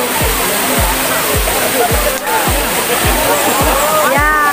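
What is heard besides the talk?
long waterfall at Bato Stream, strong current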